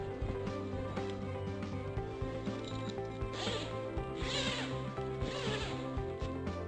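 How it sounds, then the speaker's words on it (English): A zipper is pulled along the fabric graphic of a EuroFit Vault display, giving a few short, rasping zips over a steady background hum, close by and moderately quiet. "unzip the graphic and insert the graphic onto the display"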